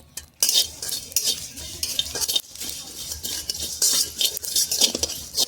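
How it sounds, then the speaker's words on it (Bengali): Cumin seeds and dry red chillies roasting in a dry pan, with repeated scraping and clinking of a metal spatula stirring against the pan in uneven bursts over a faint sizzle. "এবার আমি মশলাটাকে ভেজে নেব"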